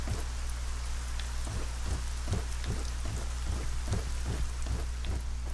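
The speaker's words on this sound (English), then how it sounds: "No more rain." In the video game ArcaniA, rain patters steadily at moderate volume while a regular series of dull thuds repeats under it like footsteps, with no talking.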